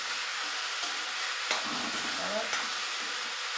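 Vegetables sautéing in a pan with a soft, continuous hiss and sizzle, a few faint stirring scrapes, quiet and close with no talk.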